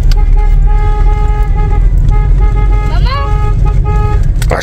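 A car horn honks in a loud, sustained blast with a short warble near the end, sounding close against steady engine and road rumble.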